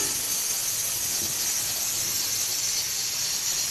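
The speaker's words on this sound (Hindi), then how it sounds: "आवाज़ आप लोग को जो आ रही है बैकग्राउंड पे वो कुकर की प्रेशर की आवाज़ है" A pressure cooker hisses steadily in a home kitchen while beef korma cooks, a constant loud steam squeal that runs unbroken throughout with no talking over it.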